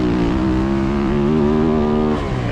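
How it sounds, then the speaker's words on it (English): A motocross dirt bike engine on a dirt track, holding a steady high-pitched drone with a slight rise in revs as it carries momentum through a wide outside turn, loud and close with no talk. "You can hear the engine."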